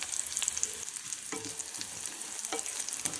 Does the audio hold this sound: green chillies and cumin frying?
yes